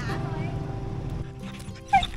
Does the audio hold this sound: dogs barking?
yes